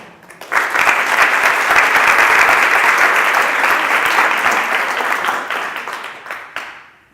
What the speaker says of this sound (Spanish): Y que ustedes le den un aplauso muy grande.